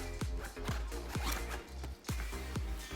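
Zipper on a 5-liter PGYTech shoulder bag being pulled in quick repeated rasping strokes, about six close, loud zips in a steady rhythm with no talking.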